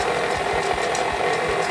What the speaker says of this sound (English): So stop whisking for a minute and get an egg.